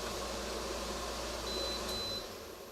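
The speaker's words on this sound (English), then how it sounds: "Probably got the air conditioner running too." An air conditioner running indoors, a steady broadband whooshing hum that fills the whole clip at low level, with a faint thin electronic whine partway through.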